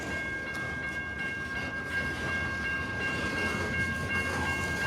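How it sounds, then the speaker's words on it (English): A loaded Paducah and Louisville Railway coal train from a Kentucky mine rolls past close by, with continuous heavy wheel rumble, rail clatter and steady tonal squeal over the whole stretch. "This train loaded overnight at Warrior Coal Mine, which is close to Nebo,"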